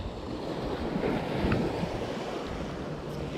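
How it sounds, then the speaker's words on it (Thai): Strong sea waves wash against the coast in a steady broadband roar, with wind buffeting the microphone throughout and no voices. "รู้สึกว่าคลื่นมันแรงนะทุกคน"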